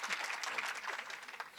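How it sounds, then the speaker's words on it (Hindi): Audience applause for a village sarpanch at a Hindi comedy poetry gathering, a steady burst of many hands clapping, fairly close, filling the short moment without any voices over it. "सरपंच साहब के सम्मान में एक बार ताली बजा दो जोरदार।"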